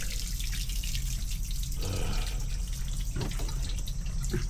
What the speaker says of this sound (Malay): Kita punya air penuh melimpah keluar.